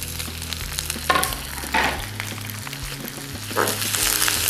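Capsicum and onion sautéing with ginger and garlic fried golden brown: a steady, crackling sizzle with bursts of stirring, heard alongside background music.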